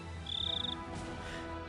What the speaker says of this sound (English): The crickets are being super loud.